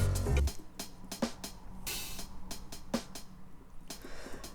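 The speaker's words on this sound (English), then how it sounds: "some snares and cymbals which sound like this" Snare drum hits and cymbal crashes in an electronic music mix, a steady rhythmic pattern of sharp hits and bright washes over low bass, with no voices.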